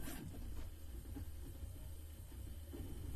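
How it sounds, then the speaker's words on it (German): A cooling fan whirs on a Fysetc-built Prusa MK3S+ 3D printer running outside silent mode, a steady airy hum with low droning undertones and faint scratchy mechanical movement, close by and continuous, with no speech. "Hört mal den Lüfter."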